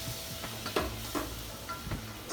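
Butter and flour roux sizzles steadily in a pan on a flat-top griddle, with repeated scraping strokes of stirring breaking through the continuous hiss, close by and without talk.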